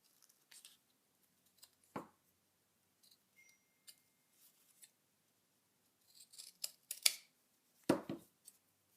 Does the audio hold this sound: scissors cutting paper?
yes